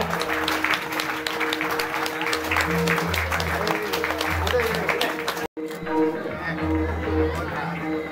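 Audience applause at a retirement ceremony, sustained loud clapping from a crowd that cuts out briefly and then resumes, with voices murmuring underneath.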